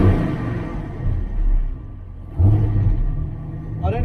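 An Ultima Evolution car engine with a large cam idles on a dyno at roughly 1050 rpm. Its loud, low rumble surges briefly, drops back, then rises again, with no speech over it.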